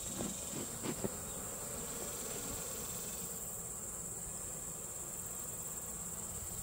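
Honeybees buzz steadily around an open hive during a summer inspection, a constant high insect drone with a few brief louder passes near the start, fairly quiet overall.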